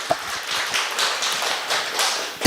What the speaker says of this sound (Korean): 우리 모두를 위해서 박수 한번 쳐주시죠